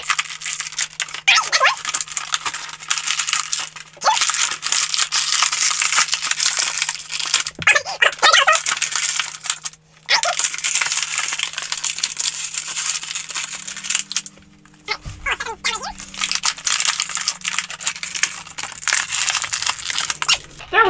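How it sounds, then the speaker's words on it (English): Pokémon Detective Pikachu figures are pulled from plastic packaging, with loud crinkling, tearing and rattling bursts separated by short pauses, close up, with a faint steady hum underneath. "let's get them out of their packaging right now"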